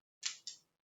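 Two quick, crisp snips of scissors cutting crochet yarn, close and alone in silence.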